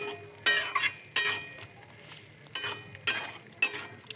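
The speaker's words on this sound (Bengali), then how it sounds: "দিয়ে দেবো চিনি ভালো করে কষিয়ে নেব" Ghugni being stirred and sautéed with sugar in a pan, a soft background sizzle broken by several sharp scraping strokes of a spatula at irregular intervals, close and fairly quiet.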